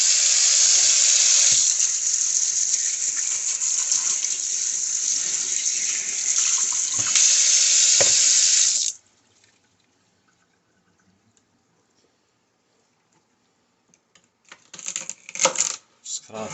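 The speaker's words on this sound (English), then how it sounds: "4 stalks of celery. And give them a good rinse." Celery stalks rinsed under a running kitchen faucet, a steady loud rush of water for about nine seconds that cuts off, followed by silence and a few faint handling clatters near the end.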